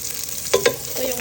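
Ginger fries in a pan with a soft continuous sizzle, broken by a couple of brief stirring scrapes.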